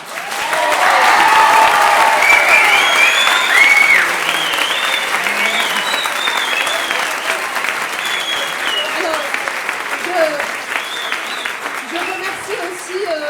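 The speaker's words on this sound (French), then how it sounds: "je voudrais que vous les applaudissiez" Theatre audience applauding actors, singers and musicians after a staging of a Molière play, sustained dense clapping with scattered cheers and voices rising over it throughout.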